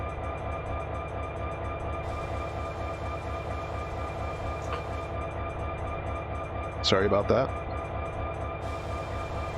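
A CSX train in the Run 8 Train Simulator video game rumbles steadily past in a low, continuous roar while someone talks briefly over it.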